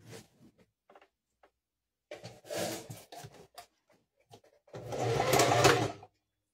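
A sewing machine stitches slowly on a padded Christmas-house fabric cover, with short hesitant runs followed by a longer steady burst of stitching, close and quiet.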